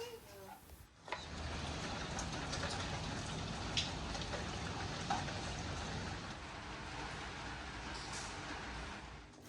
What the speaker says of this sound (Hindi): दोपहर तक ना बारिश बहुत ही ज़्यादा तेज़ हो गई थी